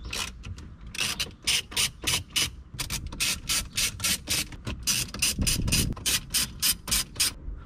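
A ratchet works 10mm bolts out of a Toyota 4Runner dash in a rapid series of close, crisp clicking bursts, repeated in quick rhythmic strokes with short pauses.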